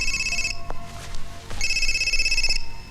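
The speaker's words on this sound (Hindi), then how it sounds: "माँ का फोन है।" A telephone rings indoors with a loud electronic trill, two ringing bursts separated by a brief pause.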